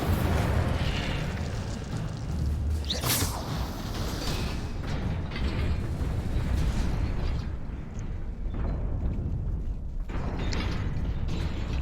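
An Incendio fire spell cast in Hogwarts Legacy erupts in loud, rumbling bursts of flame and booming blasts, one sharp crack standing out early among continuous fiery roaring.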